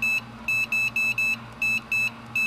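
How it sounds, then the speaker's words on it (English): A heat press timer gives a rapid run of short, high electronic beeps in an uneven pattern, about eight in all, clear and close against a faint background hum. "So I'll set the timer"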